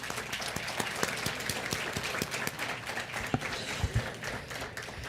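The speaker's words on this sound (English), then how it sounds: "One more round of applause." An audience at a statewide symposium general session gives one more round of applause, a continuous, moderately loud patter of many hands with a few sharper claps standing out.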